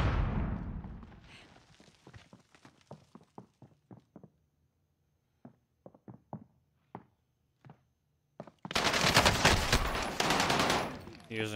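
Pistol gunfire in a video game, a string of sharp single shots in irregular bursts, some quick and close together, then a pause and more spaced shots, ending with a loud burst of dense noise.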